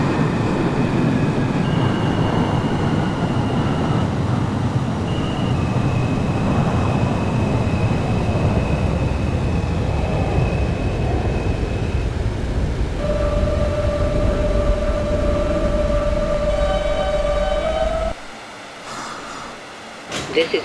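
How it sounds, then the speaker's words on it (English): An R160 subway train runs on the A line in OpenBVE, with a loud, steady rumble of wheels and motors, whining tones rising and shifting as it moves, then the rumble drops off near the end. "This is a Euclid Avenue bound A local train."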